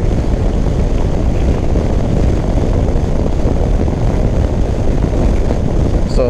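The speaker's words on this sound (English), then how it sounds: "So that's how much wind you have." Wind roars and buffets loudly and continuously while riding a 2007 Vectrix electric scooter at night, a dense, rumbling rush that fills the whole stretch with no break.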